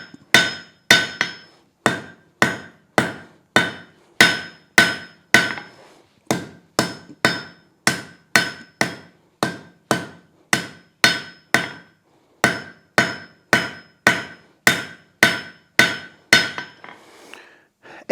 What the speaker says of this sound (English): when you're doing those fine tapers, work toward that edge so that your hammer can fall below the surface of your anvil